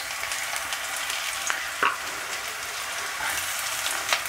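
Chopped garlic and onion sauté in a pan for chili gobhi, giving a continuous close sizzle with faint bubbling and a couple of light clicks from stirring. No one speaks.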